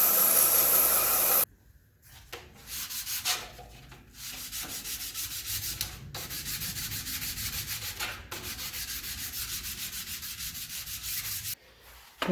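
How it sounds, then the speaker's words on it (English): A 3D printed intake part is sanded by hand in long, steady rubbing strokes with brief pauses between passes. The sound is close and fairly quiet, and no one speaks. "Okay, I've got this sanded now."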